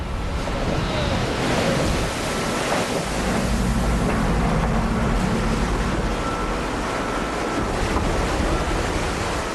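Ocean waves crash against the open stern ramp of the research ship Tangaroa in the Ross Sea, a loud continuous churning surge mixed with wind noise and low engine rumble.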